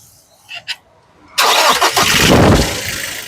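A 2018 Toyota Innova Crysta 2.4 is started: two short clicks in near silence, then the engine cranks and catches with a loud, close roar that settles into a rough, steady idle.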